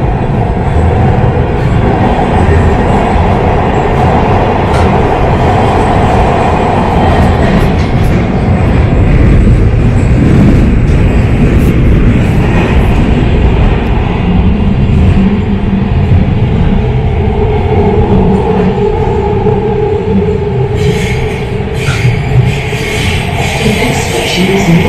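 A MARTA Red Line metro train in Atlanta rides along the rails, a loud continuous rumbling roar with wheel and track noise throughout and brief rattling clicks near the end.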